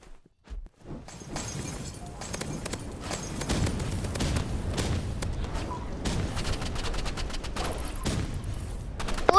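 Flare gun shots in a video game fire in rapid, uneven bursts and pop over a busy, noisy game mix. After a brief quiet start they carry on loudly to the end.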